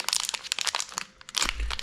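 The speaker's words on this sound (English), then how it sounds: "Come in a plastic bag out of the box." Crisp crinkling of a plastic bag being opened after coming out of a box holding LED headlight bulbs, close crackles and rustles in quick bursts with a short pause, no talking.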